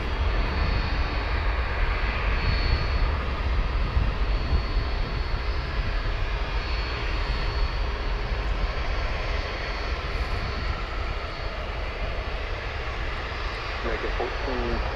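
A jet taxis at DFW Airport with its headlight on, a steady, close engine rumble and hiss running throughout with faint voices underneath.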